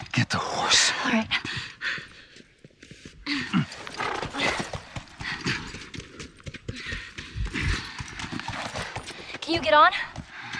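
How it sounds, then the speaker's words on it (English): Horse hooves clip-clopping in the video game The Last of Us, a loose run of hoof knocks mixed under game music and effects, with a voice speaking at times. "Just get the horse."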